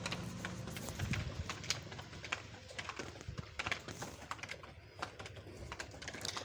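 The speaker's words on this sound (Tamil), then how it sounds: "இப்போ இதை பீட்ரூட் திருகிறதுல வச்சு நல்லா திருவி எடுத்துக்கலாம்." Carrots rubbed against a hand grater for carrot halwa give quick, steady scraping strokes, close and fairly loud, repeating evenly with no talking.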